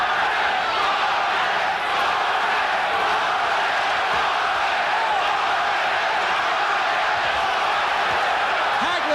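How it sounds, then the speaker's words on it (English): Dense arena crowd noise fills the whole stretch at a Marvin Hagler versus Roberto Duran boxing match, a steady loud roar of massed voices that sounds like rhythmic chanting of Duran's name, with no clear break or lull. "the crowd is chanting Duran's name"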